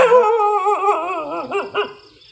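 A dog barks and yelps close by in a quick, agitated burst, with whining tones between the barks, then fades out.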